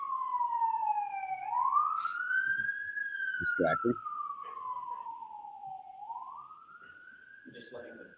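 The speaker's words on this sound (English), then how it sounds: "I'm just letting the siren go on." A police siren passes outside a courtroom during trial testimony, its wailing tone rising and falling steadily across the clip at moderate distance, with brief voices and courtroom noises underneath.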